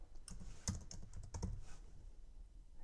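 A short burst of typing on a computer keyboard, a handful of close, crisp key clicks in quick clusters, quiet and alone without speech.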